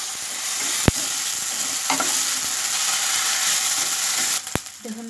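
Ginger garlic paste fries with onions in a pan for an Odia kandula curry, making a steady, close hiss. A few sharp clicks of stirring cut through it, and the sizzle dips slightly at the end.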